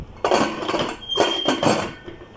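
A metal pressure cooker lid is set and closed over a pot of vajri masala with water and salt. A few close clanks and scraping knocks are heard, with one brief metallic ring.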